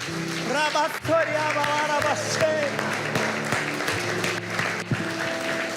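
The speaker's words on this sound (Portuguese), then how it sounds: "Eu queria que todos se colocassem de pé e aplaudissem a Jesus Cristo." A church congregation on its feet applauding, dense clapping sustained throughout, mixed with a preacher's voice and sung or musical tones over the top.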